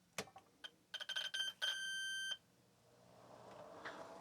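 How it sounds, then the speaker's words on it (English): A Soroc IQ 120 terminal powering on: a quick series of short electronic beeps leads into one longer sustained beep, then quiet hum. "That beeping was weird,"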